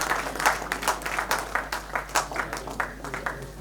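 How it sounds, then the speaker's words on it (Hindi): Steady applause from the audience at the 63rd annual art exhibition's opening and prize ceremony, many hands clapping in a continuous, even patter for several seconds with no voices over it. "आपकी तालियां बजती रहनी चाहिए।"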